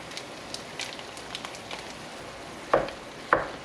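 Maple-flavored breakfast sausage frying in a pan for turkey stuffing gives a soft, steady crackling sizzle, with two sharper clatters near the end and no talking.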